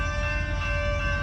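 An SD70 Max heavy-haul freight locomotive with AC traction motors, from the Colorado Pacific Rio Grande Railroad in Alamosa, Colorado, drones steadily with a deep rumble and sustained tonal hum, loud and close throughout, with no talk.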